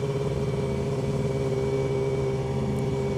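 A motorcycle engine revs loudly and steadily at around 5,000 rpm, a strong sustained drone with a deep throbbing rumble held throughout.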